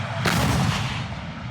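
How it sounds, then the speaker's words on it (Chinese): Live-fire artillery during a military drill in Taiwan, one loud, sharp gun blast followed by a heavy rumbling boom that slowly fades, with no voices. "火炮声真大声"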